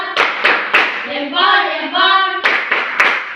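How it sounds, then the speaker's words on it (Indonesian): A classroom group does a rhythmic clap salute: three sharp claps, then voices chant together in unison, then another burst of three or four crisp claps, all close and loud. "Tepuk salut."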